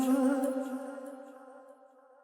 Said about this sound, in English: you can hear that kind of pinging back and forth on the delay there